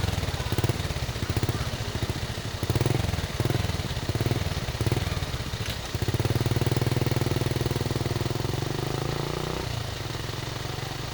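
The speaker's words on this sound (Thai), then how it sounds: "เฮาก็ขี่รถไปตามเส้นทางซึ่งก็เป็นทางหินที่เพิ่นปูเป็นหิน" Motorcycle riding along a stone-paved road toward a waterfall in Paksong, a steady, loud engine drone with rough, juddering pulses from the uneven surface, continuous and alone throughout.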